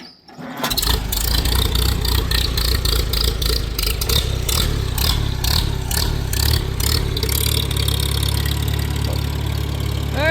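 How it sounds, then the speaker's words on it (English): A 1947 Farmall A tractor engine cranks and catches within the first second, then settles into a loud, close, steady idle with a rhythmic chugging beat for the rest, no talking. "She decided to start. Okay. This should be interesting. We'll let her run for a bit, let her warm up"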